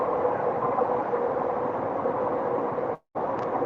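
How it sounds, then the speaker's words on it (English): A train rumbles past in a hot outdoor setting, a loud, steady broadband roar with a brief dropout near the end. "Can you see the train? It's so noisy."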